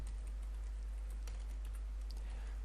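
Close, light keystrokes on a computer keyboard as a command is entered, quick irregular taps over a loud steady low hum, with no talking.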